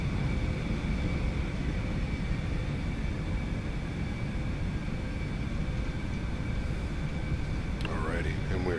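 A Boeing 757 rolls out after touchdown in a flight simulator without thrust reversers, giving a steady broadband rumble of engines and runway noise at constant level, with a brief higher tonal sweep near the end.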